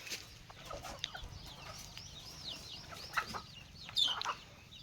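Free-range country chickens cluck and chirp in a 40 by 14 foot farm room, several birds calling irregularly at moderate distance with a few louder clucks near the end.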